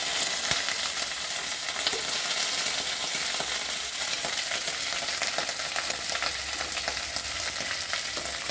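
Neem leaves frying lightly in a pan: a steady, loud, continuous sizzle with faint crackles throughout and no voices.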